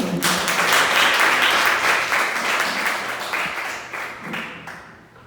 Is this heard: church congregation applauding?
yes